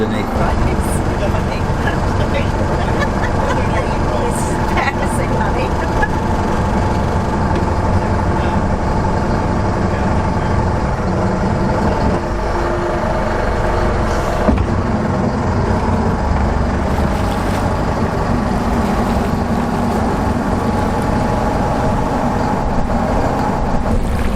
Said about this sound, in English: That's the noise difference with the engine hatch down.